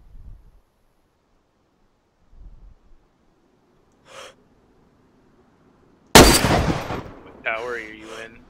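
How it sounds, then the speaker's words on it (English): A sudden loud burst of video game gunfire breaks a near-silent stretch, with a few faint sounds before it and a shorter ringing burst just after. "They're shooting at me from two angles."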